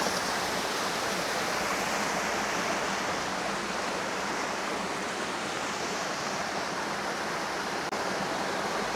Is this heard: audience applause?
no